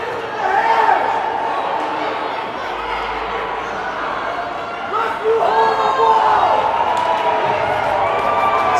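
A loud, sustained crowd roar fills an arena during a district playoff hockey game, swelling and surging throughout with a commentator talking over it.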